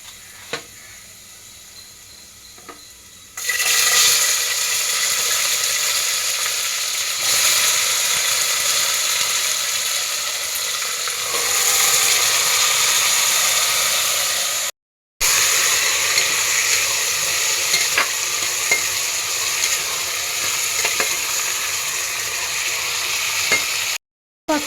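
Coriander garlic paste with vegetables frying in a pan for pulao, a loud, close, steady sizzle with stirring scrapes that kicks in after a quieter start and continues with two brief cuts.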